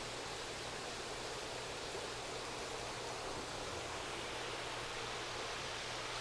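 Water runs continuously through a siphon set up in a fish pond, making a steady, even rushing hiss throughout.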